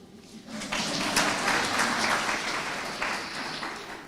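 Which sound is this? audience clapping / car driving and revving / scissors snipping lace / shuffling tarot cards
audience clapping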